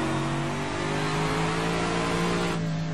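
An AC 427 Shelby Cobra's engine roars steadily in rFactor 2, a loud, sustained growl held at high revs with a slight lift near the end, heard alone without talk.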